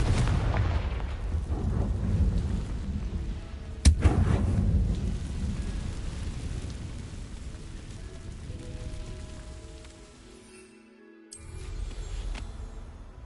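A Confringo blasting spell goes off in Hogwarts Legacy: a heavy, rumbling explosion with a sharp crack near the start, then a long roll that fades out before a brief dip and a return of ambient rumble.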